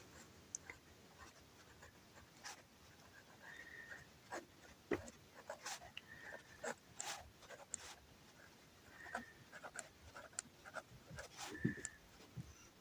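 Chalk or marker scratches and taps on a board in a quiet classroom-style setting, coming in short irregular strokes, faint and close, with no talk.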